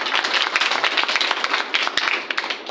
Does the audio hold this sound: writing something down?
no